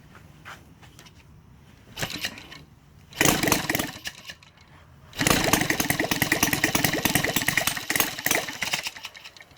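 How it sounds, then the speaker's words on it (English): A Saito 450 model aircraft engine converted to run on gasoline, still cold, bursts into a loud, raspy buzz after quieter sputters, then holds a steady, rough running drone close by. "Yeah, the engine is still cold."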